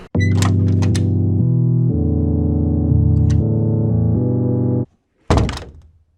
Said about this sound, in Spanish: Abramos esta puerta.